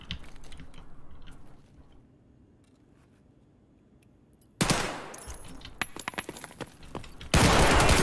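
Sudden loud bursts of automatic gunfire in an Escape From Tarkov raid break a quiet stretch, with rapid cracking shots in two heavy volleys close by.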